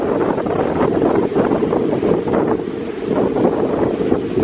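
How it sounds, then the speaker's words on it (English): Steady wind buffets the microphone over the continuous wash of choppy water, loud and unbroken throughout. "it's a little bit choppy. The wind's picked up a bit."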